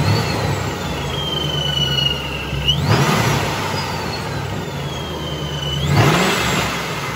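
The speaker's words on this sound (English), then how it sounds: "They have a very loud whine at idle. Here, we'll rev it up a little bit." A car engine fitted with a centrifugal supercharger revs twice, with a loud close whine that rises and drops with each blip over a steady idle.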